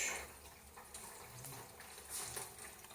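Water drains from an ultrasonic cleaner tank holding motorcycle parts for a cafe racer build, a steady, soft wash of flowing liquid that holds level and swells slightly near the end.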